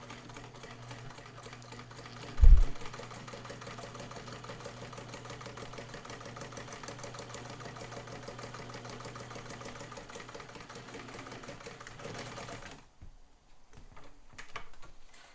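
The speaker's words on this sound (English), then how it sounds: "Now I'm going to move my stitch length over to 2, see what it does." A vintage one-owner Pfaff sewing machine stitches steadily at stitch length 2, a close, even motor hum with a fast mechanical rhythm that runs for about twelve seconds, opening with a sharp knock and ending abruptly in near silence.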